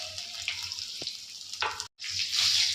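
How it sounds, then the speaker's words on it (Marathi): Crushed garlic drops into hot oil in a frying pan while cooking a safflower leaf vegetable dish, giving a steady, close hiss of sizzling throughout, with a brief break near the end. "हा लसूण जो आहे तो आता टाकत आहोत"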